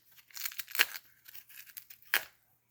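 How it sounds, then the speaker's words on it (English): Cassava skin is peeled by hand with a small knife, giving a few short tearing and crackling rips close by, with quiet gaps between them and no talk. "That's how I was taught to peel cassava."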